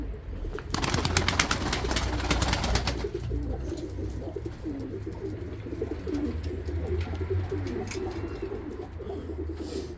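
A pigeon, caught after landing on a car roof, coos repeatedly in low, rolling calls over a steady background of other bird noise and rustling, close and fairly loud.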